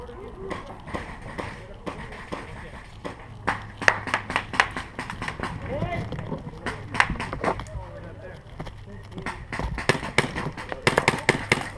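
Airsoft guns fire in sharp, irregular bursts during an outdoor airsoft battle at The Raven's Gate, some clicks close and others farther off, spread across several seconds with people talking over the shooting.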